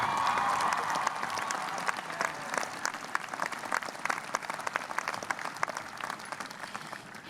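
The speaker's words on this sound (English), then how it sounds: "I want to hear another round of applause for Matt." Graduation commencement crowd applauding, a dense sustained burst of many hands clapping that thins slightly toward the end, with no voices.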